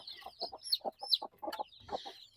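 Young crossbreed chicks and chickens in a pen give short, close clucks and chirps in quick succession, with higher peeps above lower clucking.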